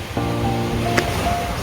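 Calm, warm sea washing onto a Bulgarian beach in October, heard as a steady, soft surf wash with no distinct breaking crashes, fairly close and continuous throughout.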